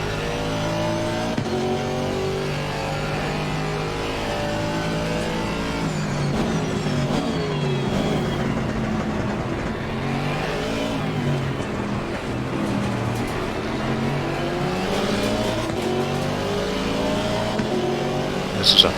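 A race car in Assetto Corsa Competizione at the Zandvoort circuit drones continuously for nearly twenty seconds, its engine note rising and falling through gear changes and revving at a steady, fairly loud level.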